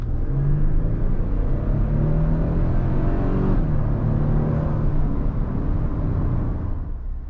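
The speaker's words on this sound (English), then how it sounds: "It's such a torquey engine with max torque at 2400 RPM, which no V8 can even come close to, which makes it so responsive when accelerating into traffic." A Toyota Tundra's non-hybrid engine pulls hard under acceleration, a loud, steady rumbling drone with a rising pitch that holds for several seconds before easing slightly, heard from inside the truck with no talk.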